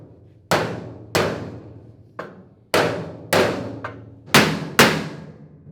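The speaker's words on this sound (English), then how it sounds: "it's the hammering that I find disturbing" Sharp hammer blows strike one after another at an uneven pace, loud and close, each hit ringing briefly before the next.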